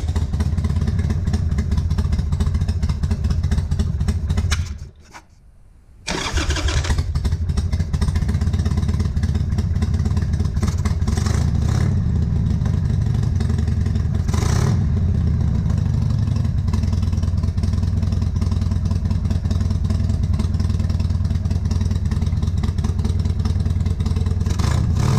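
Harley-Davidson Sportster engine idling with a steady, loud, rough rumble and clatter throughout, briefly cutting out and catching again near the start before settling back into a continuous uneven idle.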